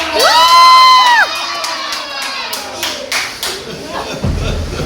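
A room crowd cheers for China with clapping and shouts, including children's voices, loud at first with a whistle-like cry, then settling into steadier applause and chatter.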